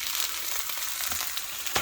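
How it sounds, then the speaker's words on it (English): Garlic sizzles steadily in hot oil in a pan, a close, even crackling hiss with a few brighter pops near the end and no talking. "You love the sound of immediate sizzling."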